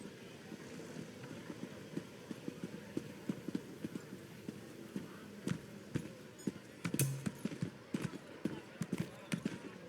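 Horse hooves clip-clop in a steady, repeated rhythm in an Elder Scrolls Online game world, each strike crisp and close, with faint ambient background beneath and a few louder thuds near the end.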